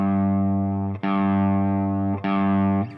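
An electric guitar played through a Neunaber Expanse pedal set to its reverb effect, with the mix knob in use: three sustained chords ring out one after another, each one cut off briefly before the next is struck.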